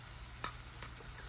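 Tomato paste sizzles as it goes into frying onions for smoky party jollof rice, a soft steady hiss with two brief stirring clicks close by.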